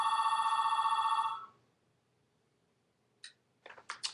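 A room telephone rings once loudly, a sustained buzzing electronic tone that cuts off. Quiet follows, then a few faint clicks and rustles.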